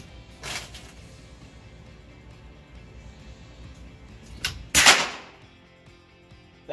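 Air rifle shots from an FX Dreamline with a power plenum, fired outdoors: a faint snap near the start, then a louder sharp crack about two-thirds in, with quiet background between.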